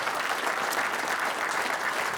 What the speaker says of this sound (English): We'll have a little round of applause for the guests as we get going.